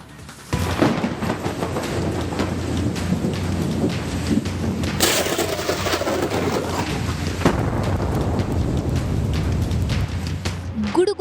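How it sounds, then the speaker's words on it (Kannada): Heavy pre-monsoon rain pours steadily in Karnataka, a dense continuous hiss with low thunder rumbling through it and a sharper crack partway, loud and close with no voices. "ಗುಡುಗು ಸಿಡಿಲಿನ ಜೊತೆ ಭಯಂಕರ ಮಳೆ ಸುರಿಯುತ್ತಿದೆ"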